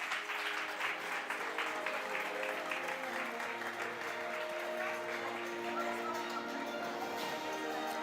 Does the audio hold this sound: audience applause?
yes